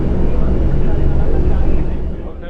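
Piston engines of a Douglas DC-6 run steadily during a ground run, a dense low rumbling roar that holds loud and even, easing slightly near the end, with a voice talking over it.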